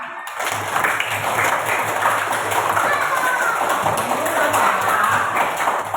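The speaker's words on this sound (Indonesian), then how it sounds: "Ayo kita tepuk tangan untuk kita semua." Steady, dense clapping from a class fills the classroom for several seconds, with some chatter and taps mixed in.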